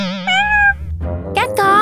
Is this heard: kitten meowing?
yes